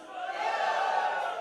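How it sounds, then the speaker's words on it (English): A conference audience of young pediatric doctors lets out a short, loud collective cheer, a sustained crowd roar lasting just over a second. "give me a loud cheer"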